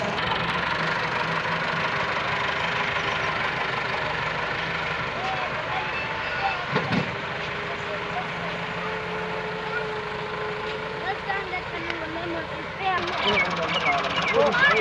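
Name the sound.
tractor engines running while pulling out stuck trolley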